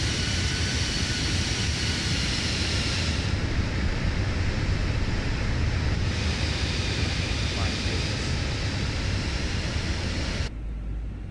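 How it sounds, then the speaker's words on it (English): Airbus A320 engine in the Fenix flight simulator, a loud, steady broadband roar that fills the whole span and cuts off abruptly near the end. "You can't hear it over the screaming engine."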